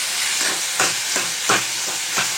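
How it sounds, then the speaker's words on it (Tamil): Tomatoes with turmeric and rock salt sautéing in a pan, a loud close sizzle and hiss with regular stirring scrapes roughly every half second, alone without talk. "கல்லுப்பு சேர்த்து கொஞ்சம் நேரம் அது வதங்கிட்டுங்க"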